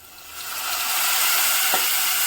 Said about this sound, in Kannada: ಈ ಥರ ಒಗ್ಗರಣೆ ಹಾಕೊಂಡ್ರೆ ಚೆನ್ನಾಗಿರುತ್ತೆ